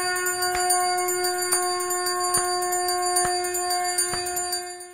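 A bright metal temple bell rings steadily, struck about once per second, with a long shimmering ring that overlaps each new strike.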